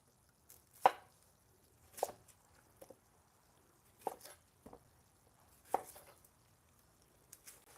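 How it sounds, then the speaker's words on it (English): Onions being chopped on a cutting board, about eight distinct knife strikes at an uneven pace, close and fairly quiet against a near-silent background. "we'll cut up these onions"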